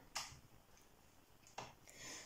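A gas stove igniter clicks as the burner is lit, two faint, close, sharp ticks spaced over a second apart in a quiet kitchen.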